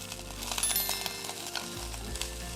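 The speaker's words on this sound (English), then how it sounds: "now we add our broccoli florets. We cook them and we toss them until they're lightly browned" Broccoli florets frying in olive oil in a pan, a constant bright sizzle close up with light stirring noises and a low hum beneath, no talking.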